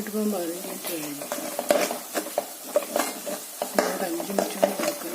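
Sliced onions frying in oil for beef biryani after about fifteen minutes on the heat, a steady crackling sizzle broken by frequent clinks and scrapes of stirring, with a person talking over it.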